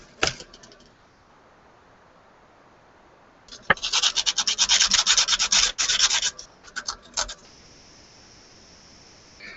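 Model part rubbed with 180-grit sandpaper: a few quick scratchy strokes at first, then a dense run of rapid, close back-and-forth rasping that trails off into scattered strokes and a thin steady hiss.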